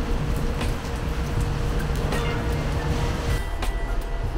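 A subway train passes in rainy night traffic, a steady roaring rumble with brief clicks, mixed with road noise from a nearby car, no talk.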